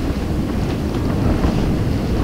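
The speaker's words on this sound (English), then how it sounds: "You can literally see gusts of wind" Strong gusts buffet the microphone outdoors, a steady low rumbling roar of wind noise with no voices.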